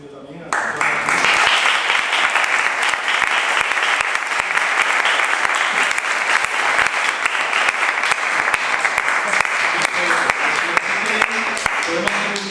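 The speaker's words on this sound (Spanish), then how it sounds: "yo creo que el aplauso es merecido también" Loud, sustained applause from a crowd starts almost immediately and continues steadily throughout, dense with overlapping claps.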